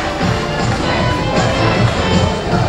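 Dense, steady crowd noise from an audience at a 20-year high school class reunion, a continuous wash of clapping and cheering held at an even level throughout.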